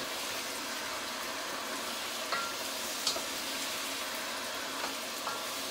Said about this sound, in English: Now, I can hear my sizzling getting a little bit higher again.